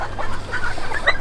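A backyard breeding-flock rooster clucking close by, a quick run of short throaty notes over faint farmyard background, with no talk.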